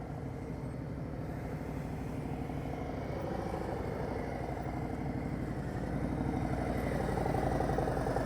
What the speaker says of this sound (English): I'm listening to that throttle and I hear it chug-a-lugging